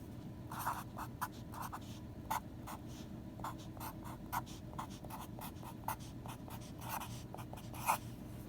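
Pen or marker writing out a math equation, a series of short, quiet scratchy strokes in irregular bursts over a soft steady background, with no talk.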